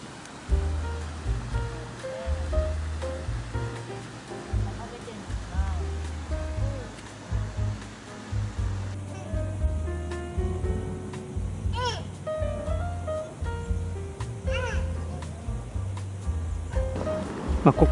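Flowing water of the Chitose River beside an Indian water wheel salmon trap, a steady close wash and churn with low rumble and occasional splashes, children's voices faintly in the background.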